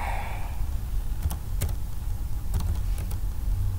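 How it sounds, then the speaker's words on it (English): Computer keyboard typing during store setup, heard as a handful of separate clicks and taps over a steady low hum of background noise, fairly close, with no voices. "my keyboard is acting up"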